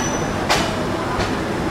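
The Padma Express intercity train departs Dhaka Airport railway station with a steady rolling rumble, broken by two brief sharp squeals or clanks of wheels and cars close by.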